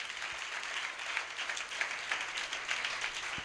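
A congregation at a live prayer sermon claps together, a dense, steady wash of applause that holds throughout without a break.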